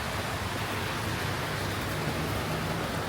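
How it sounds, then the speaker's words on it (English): Steady rain falls in Laos while a motorbike rider shelters from the downpour; a dense, even hiss runs throughout with no breaks or talk. "it is raining and I am on my motorbike"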